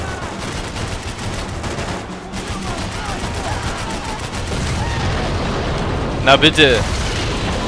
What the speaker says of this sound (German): Explodiert doch endlich!